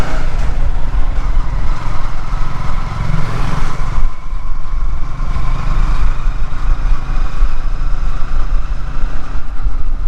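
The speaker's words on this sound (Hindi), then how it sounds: "हम जा रहे हैं एक ही बाइक पे" A Yamaha MT 15 motorcycle rides along a road, a loud, steady engine drone mixed with heavy wind buffeting close to the microphone, with no clear voices.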